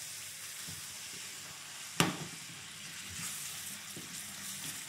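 Sliced onions fry in oil and butter in a sauté pan over medium heat, giving a steady soft sizzle with one sharp clatter near the start and light stirring noises later.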